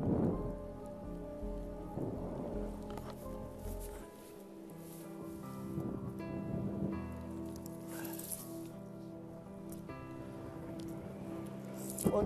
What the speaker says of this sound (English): Squalls coming in with rain.